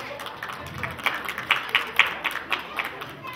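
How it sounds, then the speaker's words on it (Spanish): Audience applause at a street show in San Sebastián, scattered clapping building into a run of sharp, closely spaced claps in a loose rhythm, with crowd murmur and voices underneath. "Y más fuerte los aplausos, más fuerte los aplausos."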